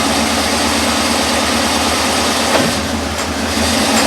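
A GMC K2500 pickup's engine idles with a steady, loud, low rumble as it is shifted into drive in four-high, and the drone changes briefly partway through.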